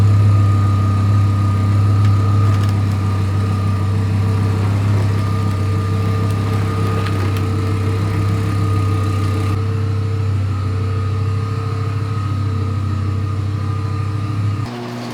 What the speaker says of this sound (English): Did you hear how long the car was running?